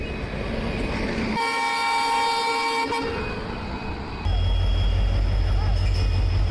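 Garib Rath Express pulling into a platform from the pit yard, a steady rail rumble with a long sustained horn blast midway, then a louder low engine drone as the locomotive nears.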